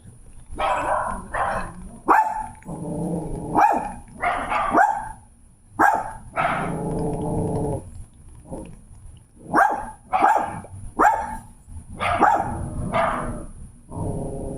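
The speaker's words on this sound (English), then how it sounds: "I don't want you to bark at me." A dog barks repeatedly at close range, with sharp barks and short growly bursts in an irregular rhythm over more than ten seconds, with no talk in between.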